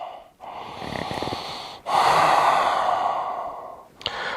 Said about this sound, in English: Big inhale, slow exhale.